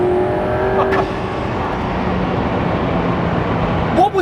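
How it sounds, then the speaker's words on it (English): A 1400 hp twin-turbo Lamborghini roars loudly at speed under a dense wash of engine and wind noise, with a brief whistling hiss early on and quick chirping blow-off sounds near the end. "That was 2 turbos. That blow up is amazing."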